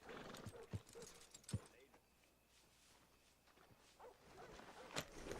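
A horse in Red Dead Redemption 2 snorting and stepping, with scattered hoof clops and faint breathy sounds, fairly quiet, amid other game sounds.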